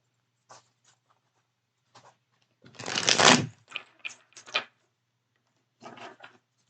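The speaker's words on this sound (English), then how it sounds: "I'm going to go ahead and pop those back in the deck and keep shuffling." Soft riffling and shuffling of a tarot card deck, several brief bursts with one longer, louder riffle in the middle, close and otherwise quiet.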